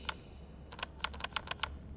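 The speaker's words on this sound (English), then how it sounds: "Where is that clicking coming from?" Mechanical clicking from beneath the floor, a trapdoor mechanism: a quick series of sharp, evenly spaced clicks, about eight of them, close and distinct over a faint low hum, with no voices.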